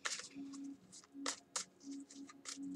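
Tarot cards being shuffled by hand, quick crisp riffles and flicks in short bursts with brief pauses between them, close and fairly quiet.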